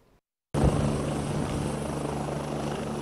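An Airbus Lakota military helicopter taking off at the Columbus, Mississippi plant roars in suddenly after a near-silent moment. Its loud, steady rotor and engine noise then holds close and constant with no talk.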